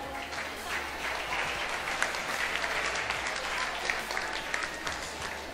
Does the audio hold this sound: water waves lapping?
no